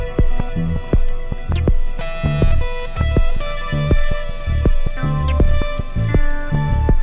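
Music mix heavily saturated by an Airwindows Dyno plugin boosted hard: thick punchy drums and dense fuzzy distorted tones, loud and compressed throughout.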